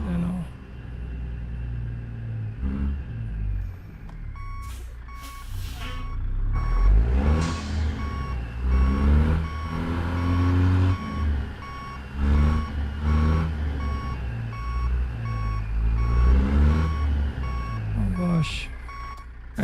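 Kenworth K100E single-axle truck in American Truck Simulator reversing, a steady series of evenly spaced electronic beeps repeating over a low engine rumble while a voice talks over it.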